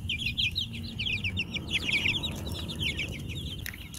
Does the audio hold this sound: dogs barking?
no